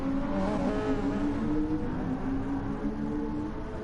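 A race car in an IMSA sim racing game at Fuji roars steadily at high revs, a dense engine drone holding loud and close throughout as it closes in to overtake, with no voices.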